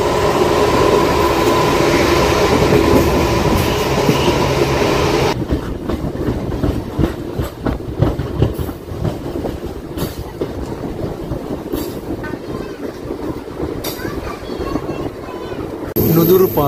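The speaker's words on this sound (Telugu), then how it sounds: "ఆ ట్రైన్ ఏంటంటే హౌరా నుంచి యశ్వంత్పూర్ వెళ్ళే వీక్లీ ఎక్స్ప్రెస్" The Howrah to Yesvantpur weekly express train rushes past with loud clickety-clack of wheels over rail joints, a steady roar that turns into rhythmic clattering, and voices talk underneath.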